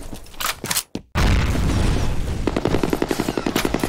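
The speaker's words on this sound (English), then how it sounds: "Grenade out." In F.E.A.R. Combat, a grenade goes off in a heavy, sudden boom right after a brief silent gap, followed by a rapid, evenly spaced volley of automatic gunfire that keeps going, with no talk.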